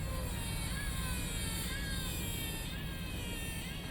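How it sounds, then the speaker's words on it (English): A 1986 Mercedes-Benz 420 SEL W126 sits idling, with a steady whir from its noisy fuel pump at the rear over a low, continuous engine drone. "Noisy fuel pump, round back."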